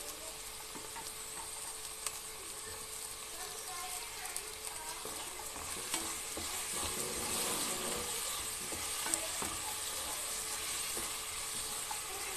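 Chopped onions and tomatoes, salted, fry in a pan for paneer biryani, giving a soft, steady sizzle and hiss with faint stirring clicks, quiet and continuous throughout.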